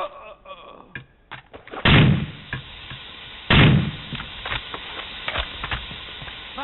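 Gunfire in the video game Rainbow Six Vegas: two loud, sharp bursts of shots stand out about a second and a half apart, followed by scattered fainter shots and clatter, with no talk over them.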